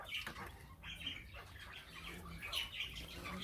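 Quails and parrots kept in an aviary in Hessen, Germany, giving scattered chirps, tweets and short squawks with some wing flapping, moderately close and fairly quiet, with no talk.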